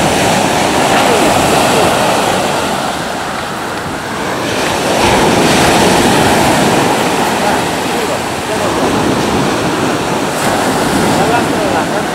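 Sea waves wash continuously onto the shore, loud and close, with rushing surf swelling and easing over about twelve seconds while wind buffets the microphone.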